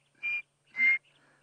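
Birds calling on a morning safari drive: two short, clear, whistled calls rise about half a second apart, close and fairly loud, with faint chirps trailing after and no talk.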